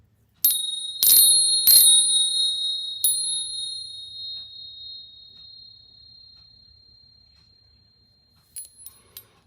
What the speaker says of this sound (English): If you clang them together a little bit harder, they do last a little bit longer.